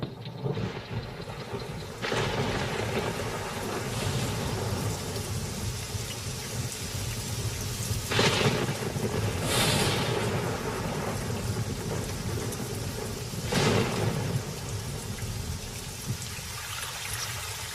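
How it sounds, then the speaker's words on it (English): A heavy thunderstorm over the dry Kalahari, steady dense rain hissing throughout, broken by several loud rolling thunderclaps that flare and fade, with no voices. "But now a tremendous storm is brewing."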